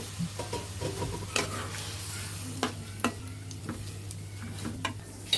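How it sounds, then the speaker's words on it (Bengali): A little water goes into a fried vegetable curry with spinach greens and stinging catfish, which sizzles faintly while a spoon stirs and scrapes the pan in irregular knocks. "এখন আমরা খুব সামান্য পরিমাণের মতো জল দিয়ে দিব"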